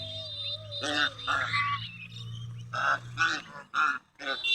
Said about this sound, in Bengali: এই যে আমাদের হাঁসের বাচ্চা দেখেন